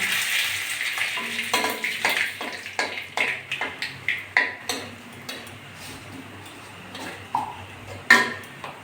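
Black mustard seeds and a dried red chili crackle in a small amount of hot oil, with a steady sizzle broken by sharp pops and clinks of a utensil against the pan.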